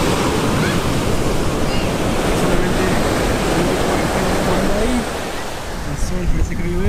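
Ocean waves breaking on an eroded beach in Bali, Indonesia, a steady loud roar of surf with wind buffeting the microphone throughout, easing slightly near the end.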